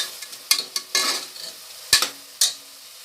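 Two tomatoes sautéing in a pan for mushroom biryani, a soft sizzle punctuated by several sharp scrapes and knocks of a spoon stirring against the metal in an uneven rhythm, with no talk.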